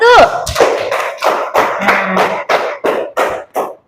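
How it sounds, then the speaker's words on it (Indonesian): Classroom group clapping for group 1 after a presentation: a run of about ten sharp, loud claps in an uneven rhythm, with a voice briefly audible at the start. "Beri tepuk tangan untuk kelompok 1."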